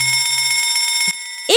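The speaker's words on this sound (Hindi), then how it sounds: "एक जोरदार अलार्म बज उठा" A loud alarm rings in an animated story set in a jungle, a steady bright electronic trill lasting over a second before cutting off, with a brief voice entering at the end.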